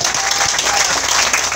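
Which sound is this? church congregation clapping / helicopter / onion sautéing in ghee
church congregation clapping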